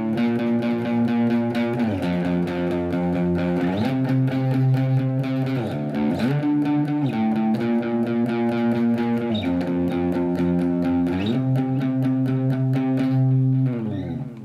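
Guitar playing a song, a steady strummed and picked chord progression with shifting chords and a distorted, effects-laden tone, loud and continuous throughout with no talking.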